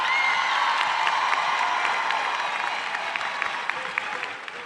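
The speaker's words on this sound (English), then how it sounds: "May we give our graduates a round of applause." A crowd at the Beach High School 2025 graduation ceremony applauds the graduates, a loud, dense, continuous clapping that carries through the whole stretch and eases slightly toward the end.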